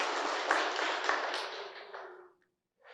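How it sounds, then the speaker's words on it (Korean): Church congregation applauding in encouragement at a Sunday Advent service, a steady dense round of clapping that carries for over two seconds, then stops abruptly, leaving a brief quiet before a faint sound. "여러분 잘 다녀오시라고 격려의 박수 부탁합니다."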